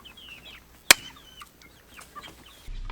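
Young Cornish Cross meat chicks chirp and peep in a series of soft, scattered calls, with one sharp knock and a low hum entering near the end.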